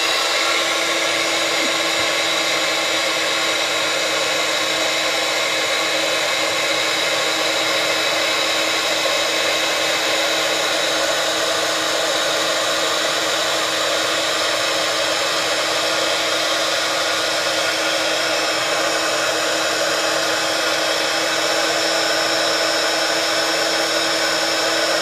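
A heat tool blows steadily while heating a stamped card for embossing, a loud, constant fan whir and hot-air hiss that holds unchanged throughout with no talking.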